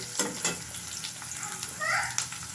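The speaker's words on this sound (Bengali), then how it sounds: "তো পেঁয়াজটা একটু বাজা বাজা হোক এই তো চিংড়ি মাছটা এখন একটু দিয়ে দিব তেলের মধ্যে" Onions frying in oil in a village kitchen in Bangladesh, just before prawns go in: a soft, steady sizzle sits under a low background, with a few brief stirring scrapes and clinks.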